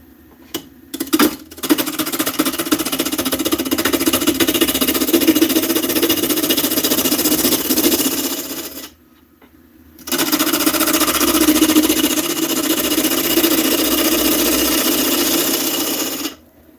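A wood lathe turns a small, simple bowl from a blank that is slightly off-center, with a gouge cutting in a steady, loud, continuous grinding whir. The cut stops briefly around the midpoint, then resumes at the same level.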